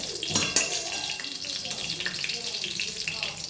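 Onions and spices frying in a pan for Bengali fish curry, a soft steady sizzle with light stirring and clinking close by, with a voice briefly audible in the background.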